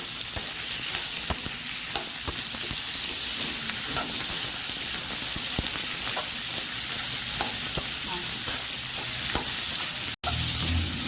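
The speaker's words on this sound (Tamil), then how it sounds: "தக்காளி நல்லா சுருங்கி வர மாதிரி வதங்கலாம்" Tomatoes sauté in a pan for chicken gravy with a steady close sizzle, broken by repeated scraping stirs, with no talk over it.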